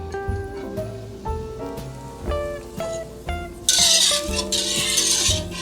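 Metal utensil clinking and scraping against a pot of chocolate for champurrado in repeated stirring strokes, followed by a louder hissing bubbling wash, close up without talking.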